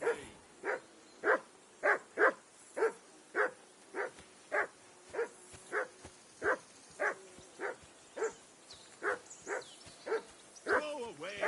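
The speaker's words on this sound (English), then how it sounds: "Henry, that barking's driving me nuts. Can you get your dog to shut its beak?" A dog in the medieval game Kingdom Come: Deliverance 2 barks repeatedly, about sixteen evenly spaced sharp barks close by, ending in a whine.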